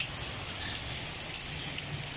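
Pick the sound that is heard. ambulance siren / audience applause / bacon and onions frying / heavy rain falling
heavy rain falling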